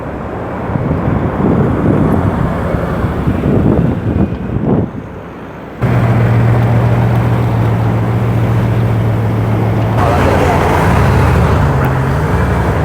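A Bugatti Veyron hypercar drives slowly toward a trailer in London, a steady low engine drone rising after a brief lull, heard with wind buffeting the microphone throughout and no talk.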